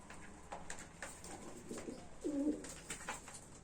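Domestic pigeons in a loft coo softly, a short rolling call standing out midway over faint background rustling and scattered chirps, fairly close but low in level.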